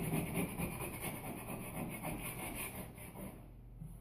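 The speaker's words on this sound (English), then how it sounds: "I'm going to go over it again with my scraper, making sure that the letters are adhered to the wall" A scraper rubs vinyl wall letters onto a wall, producing a faint, continuous dry scraping with slight back-and-forth variation, close and quiet with no talk.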